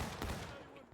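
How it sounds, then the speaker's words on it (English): Gunfire exchanged between soldiers on a Civil War battlefield in a video game, a brief burst of distant shots against a dull rumble of battle. "Shots being exchanged over there"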